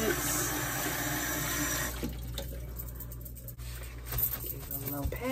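A brisket rinsed under a running tap in a sink, with a steady, close rush of water that shifts in tone partway through as the meat moves under the stream.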